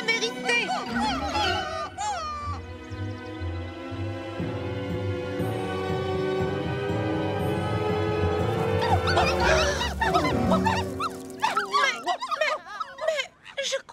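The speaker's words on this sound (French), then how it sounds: "Les chiens sont là" Cartoon dogs at a dog park bark, yip and whimper in bright, playful bursts over lively background music, with characters talking between and over the dog sounds.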